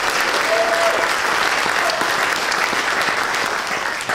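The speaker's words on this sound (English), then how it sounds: "let's give him a round of applause" Sustained applause from an audience at a political event in a theater, dense steady clapping filling the room for about four seconds with no talk over it.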